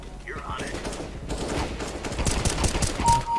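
Rapid gunfire in a Counter-Strike: Global Offensive deathmatch, with dense bursts of automatic shots crackling on and off, and a player talking over them.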